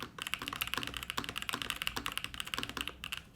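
Rapid, rhythmic typing on a Strata TKL mechanical keyboard, a quick run of crisp, soft key clicks up close, with no one speaking.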